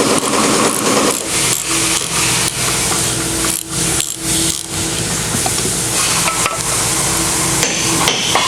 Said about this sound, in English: Take the bolt out.